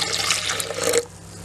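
Half a cup of water splashes into a fish marinade of vinegar, salt, black pepper, dried coriander and cumin, a short, close pour that stops abruptly.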